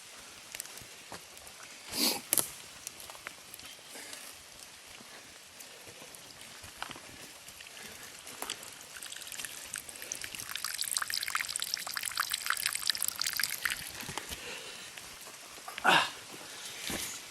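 Rain falls outdoors in a quiet natural setting, making a soft, steady patter that thickens toward the middle, with a couple of sharper splashing bursts standing out near the start and end.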